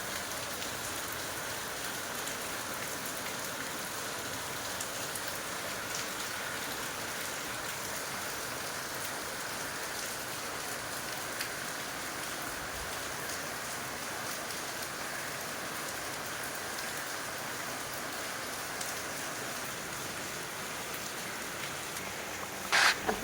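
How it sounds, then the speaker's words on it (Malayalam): Steady rain falling on surfaces outside a home kitchen in Thiruvananthapuram, Kerala, a constant even hiss of drops with no break, close and moderately loud with no voices. "പോരാത്തതിന് മഴയും"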